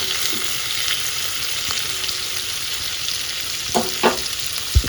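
Bottle gourd curry cooks in a pan, a steady moderate sizzle with a few clinks and scrapes of stirring toward the end.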